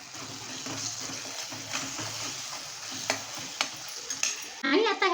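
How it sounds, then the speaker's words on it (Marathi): Masala frying in released oil while being stirred, with kasuri methi going in: a soft, steady sizzle with scraping stir strokes, quiet and close, ending in a brief clatter. "छान मस्त मसाला परतला गेलेला आहे, तेल पण छान सुटलेलं आहे"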